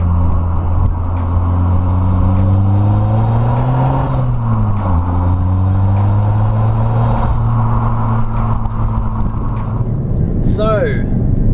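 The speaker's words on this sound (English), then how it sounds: "the exhaust, it does actually have quite a nice little sound to it." Inside a Ford Focus ST3 diesel on the move, the exhaust gives a steady low drone that swells and dips with the throttle over constant road noise, ending with a brief high squeak.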